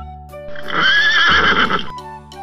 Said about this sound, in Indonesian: Wah, ada kuda kembar teman-teman warna coklat.